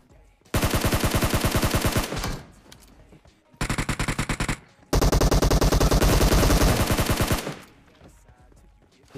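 M249 machine gun fired at bots in a video game, loud rapid automatic bursts in three long strings with short gaps between them, close and dominant with no talk.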